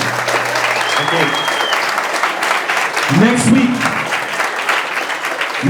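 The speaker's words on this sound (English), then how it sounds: "Let me get a round of applause for my man, Mr. Michael Terpin." Audience applause breaks out for Michael Terpin after a crypto market talk, a dense, steady clatter of many hands filling the room, with a voice speaking over it partway through.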